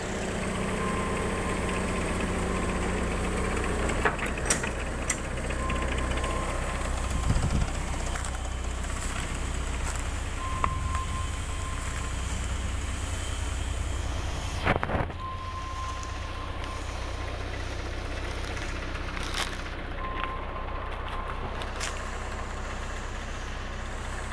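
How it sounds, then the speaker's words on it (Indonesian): A driverless tractor moving on its own, its engine running steadily throughout with a low rumble, some wind buffeting on the microphone and a few brief knocks and clanks; no one speaks. "Sebuah traktor bergerak sendiri tanpa ada orangnya."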